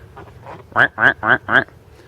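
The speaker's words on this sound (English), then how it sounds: "Hey ducks, what are you doing over there?" Backyard ducks near a weedy garden pool let out four loud, evenly spaced nasal quacks close by, after a stretch of softer murmuring calls.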